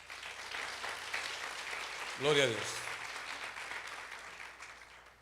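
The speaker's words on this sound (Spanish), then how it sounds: "Denle un fuerte aplauso al Señor." A congregation claps through a Spanish-language Pentecostal faith service while a voice proclaims praise over the top, the clapping dense and continuous under the speech.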